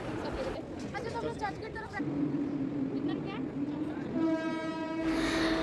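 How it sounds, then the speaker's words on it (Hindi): Mumbai local train on the Bandra to Churchgate line rolling through a station, its steady rumble and clatter joined by a long tonal horn blast near the end, with people talking over the noise. "ये है मुंबई की लोकल ट्रेन"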